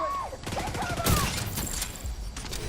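Gunfire in the video game The Division 2 during a headshot kill, a rapid burst of shots with a sharp loud crack near the middle, game effects and a voice in the background.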